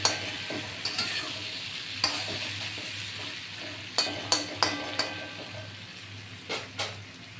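Vegetarian curry of eggplant with green chilli and five-spice being stirred in a pan: a soft steady sizzle runs throughout, broken by several sharp scraping clinks of the spatula against the metal pan, close and fairly quiet.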